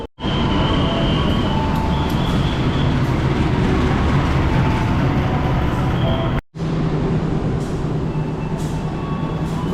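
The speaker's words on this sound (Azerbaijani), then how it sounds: "Bu da bizim qatarımız." A train running on rails, heard from inside as a loud continuous rumble with rhythmic clatter, which drops out briefly near the start and again partway through before resuming.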